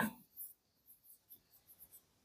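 Faint pen strokes writing on paper during a math lesson, a series of soft scratchy taps in an uneven rhythm, close and quiet after a brief louder noise at the start.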